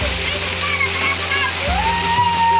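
Steady rushing splash of a waterfall with a rainbow in its spray, a constant broadband wash close by, with faint tonal sounds riding over it.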